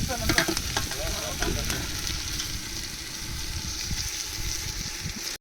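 Onions and tomatoes fry in a pot for Karnataka-style tomato bath, a steady close sizzle with scraping stirring clatter near the start, no speech over it.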